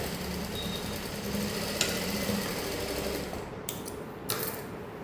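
A sewing machine stitches a saree blouse, running in a steady close mechanical whir with a faint rhythmic needle clatter, broken by a few brief clicks near the end, with no one talking.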